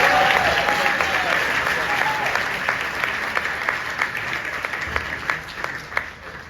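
An audience applauds as a startup founder takes the stage, with steady, dense clapping from a sizeable crowd that gradually thins toward the end, with a few voices briefly audible at the start.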